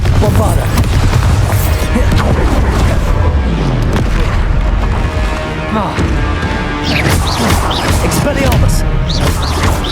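Bombarda explosion spells blasting repeatedly during a Hogwarts Legacy duel, with loud booms and crashes packed into a continuous, dense battle din.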